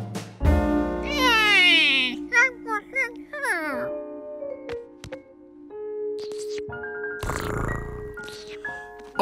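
A cartoon cat meows in a series of drawn-out, rising and falling cries, loud and close, followed by quieter voices speaking.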